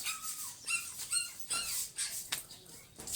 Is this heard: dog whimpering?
yes